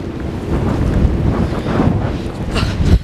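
Strong wind buffets the microphone outdoors on a cold, windy day by the sea, a loud, constant rumble and roar with gusts that swell and spike near the end, no speech over it.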